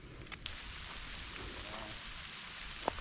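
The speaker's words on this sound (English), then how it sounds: "The rain is starting to come down" Steady, soft patter of rain falling outdoors at a Civil War battlefield in South Carolina, with a couple of sharper drips landing nearby and no voices.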